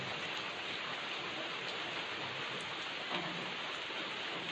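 Slow, steady rain falling outdoors onto ground, plants and trees, a continuous soft wash of hiss with faint drip accents, even and unbroken throughout.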